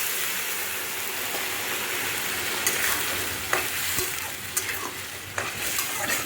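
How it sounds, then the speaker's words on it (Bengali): A vegetable curry with spices and tomato sizzles loudly in a pan as water is poured in, giving a continuous dense hiss and bubbling, with occasional stirring clicks and scrapes. "এবার আমি এখানটায় জল দেবো"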